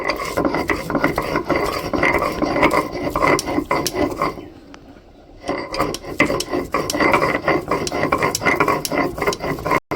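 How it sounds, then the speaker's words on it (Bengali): Garlic cloves crushed on a grinding stone (shil-nora) in a village kitchen, a steady back-and-forth rasping scrape with rhythmic strokes, close and loud, pausing briefly midway before resuming. "এই 3 কোয়া রসুনটা আমি ভালো করে বেটে নেব"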